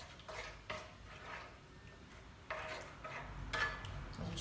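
Beetroot gnocchi dough, gluten-free, stirred and sautéing in a pan with seasoning, giving a soft steady sizzle broken by several scraping utensil strokes against the pan, close and moderately quiet.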